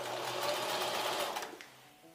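Sewing machine stitching locks of sheep wool, a steady mechanical whir running alone for most of the moment before tapering off near the end.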